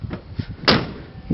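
Car door of a 1966 Pontiac LeMans with a 389 engine shuts with one solid, close thump, preceded and followed by soft handling clunks from the latch and body.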